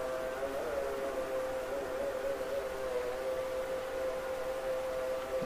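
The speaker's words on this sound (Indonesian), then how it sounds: "Jadi ini suara adzan, bukan dari suara misteri." Call to prayer (adzan) from a local mosque loudspeaker, heard at night near an old cemetery as a steady, distant wavering tone held for several seconds over a faint hiss.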